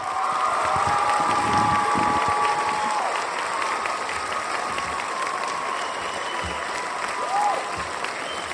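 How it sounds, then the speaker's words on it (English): A lecture audience applauds Dr. Charles Thomas Cayce, grandson of Edgar Cayce. Dense, sustained clapping from a large crowd fills the whole stretch at an even level. "A round of applause for Dr."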